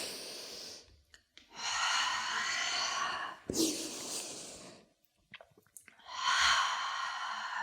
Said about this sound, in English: Lift with your breath in. Lower with your breath out.